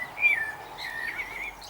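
A blackbird sings faintly in a garden near a shed with a roof awaiting repair, its warbling phrases soft against quiet outdoor background.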